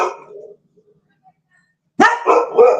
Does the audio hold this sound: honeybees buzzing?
no